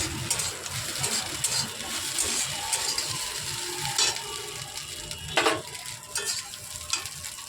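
Potato and egg curry sizzles and is stirred in a wok, with steady frying hiss, scraping spatula strokes and a few sharper clatters up close, no speech.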